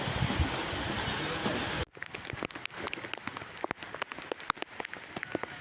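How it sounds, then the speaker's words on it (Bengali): Heavy rain hisses steadily at first at a railway station, then gives way abruptly to scattered, close drips and patters falling irregularly on a hard surface. "আবার বৃষ্টি হচ্ছে এখন।"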